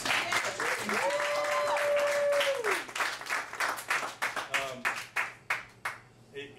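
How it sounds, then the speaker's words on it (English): Audience applauding youth All-American football players at a jersey presentation: clapping swells under a voice, then continues as distinct, thinning claps that taper off near the end. "So real quick, for all 4 of them together, give them a round of applause."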